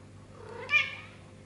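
A house cat gives a single short, soft meow, faint against a quiet room hum.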